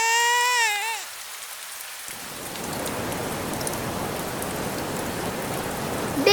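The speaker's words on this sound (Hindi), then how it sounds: "अरे देखो, बारिश भी आ गई" A high-pitched voice at the start gives way to a sudden heavy downpour that hisses loudly and evenly for several seconds, with a faint sound from another voice at the end.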